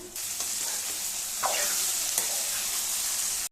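Eggs fry in a pan of hot oil for a Telugu-style egg and brinjal tamarind curry, giving a steady, close, dense sizzle with brief spatters and a faint scrape or two, and no one speaking.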